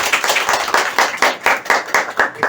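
An audience at a herbal store talk claps in a quick, steady rhythm for a few seconds, close and fairly loud, with individual hand strikes distinct.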